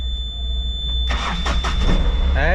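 A dusty goods vehicle, left unused for many days and being inspected at an auction, cranks on its self-starter and catches at once, settling into a loud, close idle.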